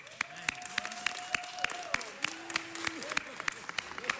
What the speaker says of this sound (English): Can we give the 10th District Women's Steering Committee the round of applause that they deserve?